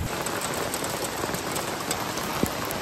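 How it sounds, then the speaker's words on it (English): Steady rain falls on surfaces at a campsite in Ontario among spruce trees, a dense continuous patter with scattered louder drops, no talking. "It was raining when we left, and it's raining when we came back."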